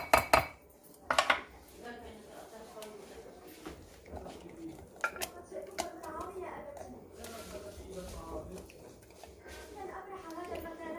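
A cooking pot is picked up and handled for boiling mallow greens, with sharp metallic clanks and knocks near the start, then softer scattered clinks under ongoing background speech.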